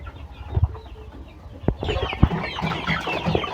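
Chickens, large birds during a Newcastle disease outbreak, clucking and murmuring close by, with scattered louder squawks and a busy, steady background of fowl sounds.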